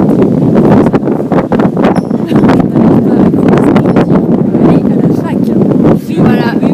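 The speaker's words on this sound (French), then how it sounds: "Il y a beaucoup de vent qui s'envole." Strong outdoor wind buffets the microphone in a steady, loud roar throughout, with people talking over it.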